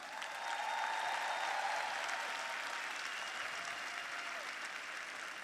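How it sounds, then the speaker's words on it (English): A huge crowd in a coliseum applauds, a broad, distant roar of clapping that rises quickly and stays dense and steady, echoing through the large arena. "Let's give all these leaders in this coliseum a huge round of applause"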